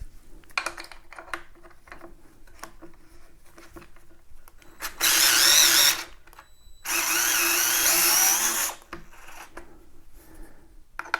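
Power screwdriver removing bolts from bicycle pedals, with two loud, steady whirring runs of about one and two seconds near the middle and quieter handling clicks and rattles before and after.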